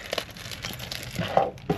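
Soft paper crinkling and rustling in short bursts, close and fairly quiet, with a few sharper crackles near the end.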